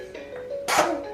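A single sharp sneeze bursts out near the end, preceded by a faint tonal hum and quiet background; close and abrupt.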